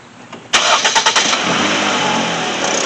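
A 2009 Ford Focus engine cranking briefly and catching, a few quick starter pulses then settling into a steady close, loud idle that holds to the end.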